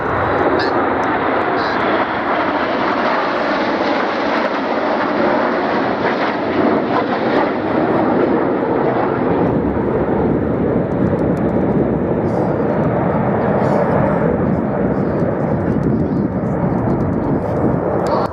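Aerobatic display jets at Biggin Hill Airshow roar overhead in a loud, sustained broadband rush that swells and shifts for the whole stretch, with a commentator talking over it.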